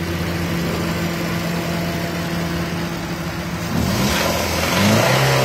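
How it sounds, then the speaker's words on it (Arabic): Repaired car engine idling steadily, then revved in two short bursts near the end, rising in pitch and loudness with no talk over it. "نسمعوا الرنده نتاع الموتور"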